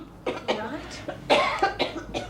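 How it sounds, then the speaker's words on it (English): A woman coughs in a drama scene, several separate hacking bursts spread over about two seconds, close and fairly loud. "It's just a cough."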